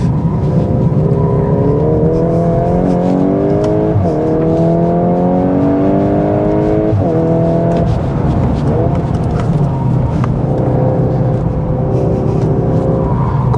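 A 2023 Volkswagen Golf R 20th anniversary edition is driven hard on Potenza Race tyres. Its engine roars loud and close, climbing steadily in pitch and dropping back at each gear change, with several rising pulls in a row.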